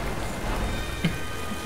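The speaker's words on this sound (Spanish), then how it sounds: "Lluvia de agua y vapor." Steady hiss of a water-and-steam rain spell cast in the video game Magicka, a continuous broadband wash of patter that stays even throughout with a faint soft bump near the end and no voices.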